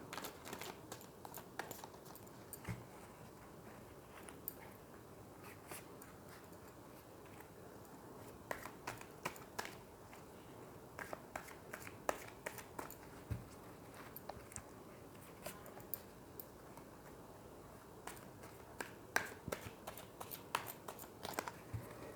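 Tarot cards are shuffled and pulled from the deck close by, making soft, quiet flicks, riffles and light taps scattered irregularly over a near-silent background.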